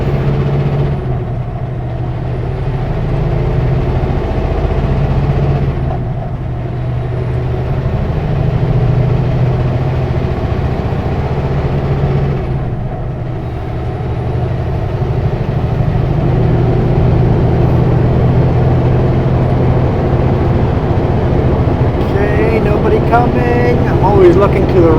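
A truck with an automatic gearbox drives along, a loud steady engine drone and road rumble heard from the cab, with dips where the transmission shifts between gears, and a voice talking at moments over the engine.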